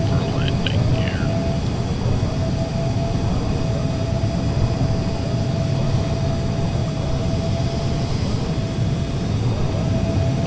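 Cessna CJ2 business jet on landing approach in the Prepar3D flight simulator, a steady, loud broadband engine roar with a thin constant whine running through it, unbroken for the whole stretch with no one talking.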